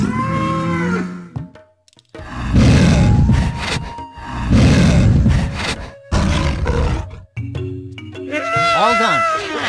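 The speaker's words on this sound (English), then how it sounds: "Loud and obnoxious. My favorite kind of roar." A cartoon dinosaur from the PC game Disney's Dinosaur Activity Center lets out loud, drawn-out roars in several bursts, broken by short gaps, with exaggerated cartoonish voice-like growls and warbles between them.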